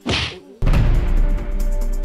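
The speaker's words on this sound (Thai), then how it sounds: "มึงแน่จริงมึงตบกูอีเทียนใช่ล่ะ" A sharp open-hand slap lands once with a crisp smack, preceded by a brief airy swish and followed by a lingering rumbling hum.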